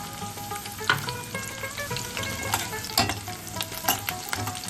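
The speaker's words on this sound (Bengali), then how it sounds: "সর্ষের তেল গরম হয়ে গেছে আমি কুচনো পেঁয়াজ আর কাঁচা লঙ্কা দিয়ে দিচ্ছি" Chopped onion and green chilli fry in hot mustard oil in a kadai for fish kachori: a close, steady sizzle and crackle with repeated scraping stir strokes, and no talk.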